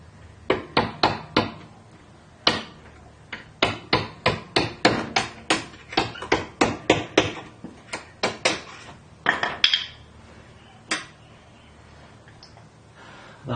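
A control arm bolt on a Mitsubishi Galant/Legnum VR4 is knocked through with the back of a screwdriver, giving a long run of sharp metallic taps in uneven bursts, close and loud, with no talking.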